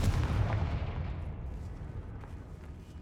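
A blasting spell explodes in the Hogwarts Legacy video game, a loud low-heavy boom at the start that rumbles and decays over about three seconds, with no talking.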